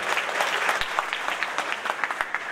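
An audience claps at a Dr. Bhupen Hazarika birth centenary event, a short burst of scattered, moderately distant handclaps with individual slaps audible.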